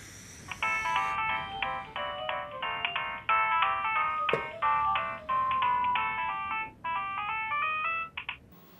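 A melodic phone ringtone plays on continuously, a bright repeating electronic tune, fairly close and clear.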